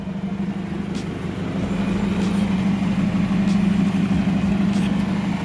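A car engine idles with a steady, close, low hum and a few faint clicks, holding an even level throughout.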